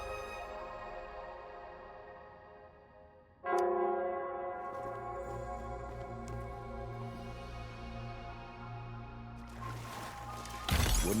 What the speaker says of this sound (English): It's the bell. They must be showing the way for us.